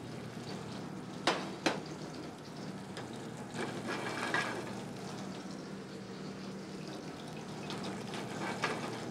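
Red snapper laid skin side down in a smoking-hot pan, giving a steady broadband sizzle throughout with a few sharp pops near the start, close and moderately loud, no talk.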